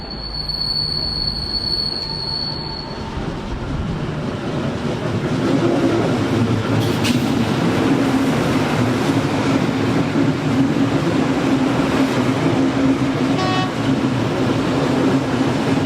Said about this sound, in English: we got a train.